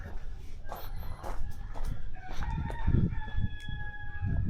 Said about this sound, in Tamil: பாருங்க, சேவல் கூவுது கரெக்டாக காலையில்